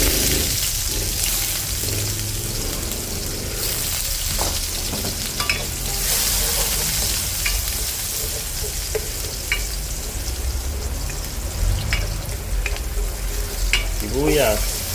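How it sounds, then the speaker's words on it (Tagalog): Oil sizzles steadily in a pan as garlic sautés for a sinigang with Cebu lechon, with intermittent clinks and scrapes of stirring throughout. "gigisa na tayo, mantika"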